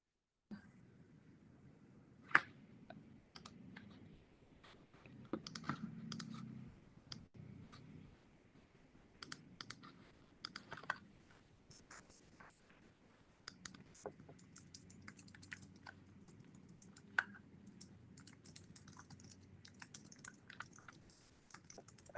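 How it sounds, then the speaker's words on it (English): Faint keyboard typing picked up on an open call microphone, with scattered irregular key clicks and taps that come in sparse clusters over a low, quiet background. "I hear some typing."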